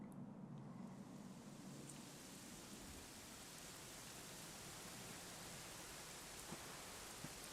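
Steady rain falling in Dragon Quest XI, a constant soft hiss of downpour with faint low rumbling, continuous and even throughout with no voices.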